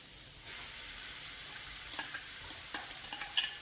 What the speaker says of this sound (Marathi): वाफवून घेतलेले मटार हे थोडं हलवून घेऊयात अगोदर